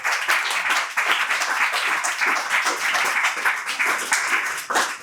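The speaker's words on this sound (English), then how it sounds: "So can I have a massive applause for our panelists?" Audience applause for a panel at an evening career event, a steady wash of many hands clapping at moderate volume that carries evenly through the whole stretch.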